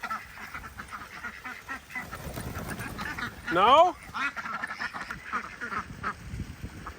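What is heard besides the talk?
ducks quacking by a new pond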